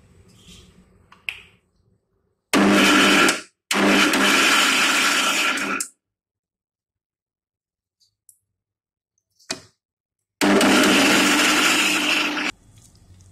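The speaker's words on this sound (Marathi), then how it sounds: "तर आपण हे मिक्सरला करून घेणार आहोत." A mixer grinder blends soaked wheat into a paste for wheat kurdai. It comes in three loud, steady whirring bursts separated by pauses, with a few faint clicks in between.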